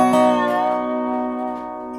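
A dobro chord strummed with the unused strings left unmuted, so extra strings bleed into it; a single bright, ringing strum that sustains and slowly decays with sympathetic overtones.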